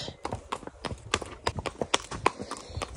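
Hooves of a ridden horse named Kyle clip-clop at a relaxed walk on a loose rein during a hack, the close, regular footfalls sounding alone.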